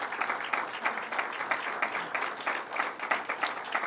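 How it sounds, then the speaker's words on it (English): An audience applauds Governor Cuomo at a public meeting in Hauppauge, a moderate, slightly distant round of clapping with a steady pulsing rhythm that continues evenly throughout. "let's give Governor Cuomo a tremendous round of applause"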